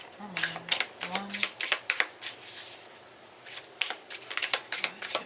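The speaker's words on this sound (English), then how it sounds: "Alright, 3 shuffles." Tarot cards are shuffled in quick riffling bursts during a reading, with close papery flutters and taps that come in clusters while a person speaks briefly at the start.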